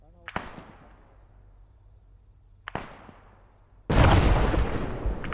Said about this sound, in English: Massive explosion here. That was the AA position being blown.